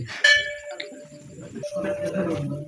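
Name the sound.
temple bell ringing at Shiva temple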